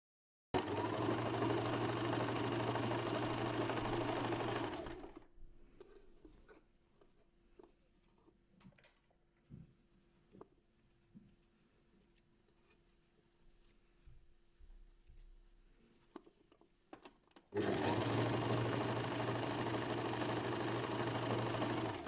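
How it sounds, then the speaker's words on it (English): A sewing machine runs loudly at first, stops for a stretch of quiet handling noises, then starts stitching again at full speed. "I'm gonna sew a couple of stitches over the beginning of the seam to secure my seams"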